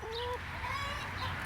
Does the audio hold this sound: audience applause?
no